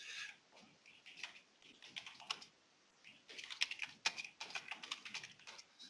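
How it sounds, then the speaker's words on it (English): Quiet, quick clicking of computer keys in uneven bursts, with brief pauses between runs of typing, heard close and alone. "And I'm just typing in all the accounts."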